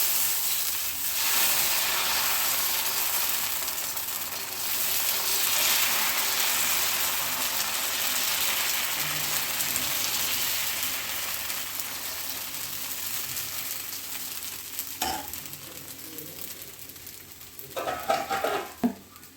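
Batter sizzles on a hot oiled griddle while a jackfruit dosa cooks, a steady broadband frying hiss holding close and even throughout, with a few brief clinks and scrapes near the end.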